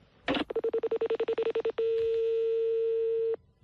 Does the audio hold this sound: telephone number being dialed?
yes